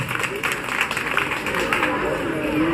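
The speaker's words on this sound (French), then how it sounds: "Mesdames et messieurs, applaudissez pour ces doyens ici présents." An audience claps steadily for honoured elders at a school ceremony, a dense, continuous round of applause held at an even level for the whole stretch, with some voices mixed in.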